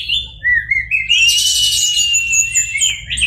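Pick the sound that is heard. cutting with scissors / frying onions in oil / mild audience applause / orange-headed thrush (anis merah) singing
orange-headed thrush (anis merah) singing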